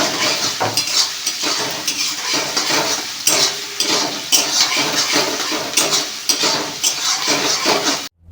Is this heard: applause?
no